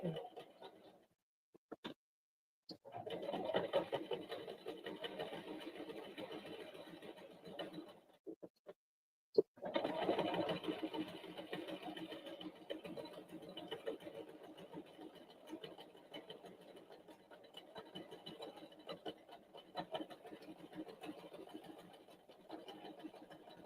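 A sewing machine runs in long steady bursts while stitching a knotted baby hat with zigzag and back stitches, whirring loudly and close with a brief stop partway through.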